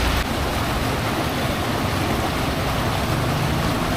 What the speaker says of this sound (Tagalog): Ito na yung tubig na lumabas tapos paikot yan